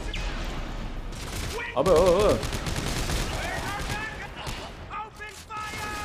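Gunfire in the Dead Space 3 video game, dense bursts of shots over a busy game soundscape with a voice talking over it.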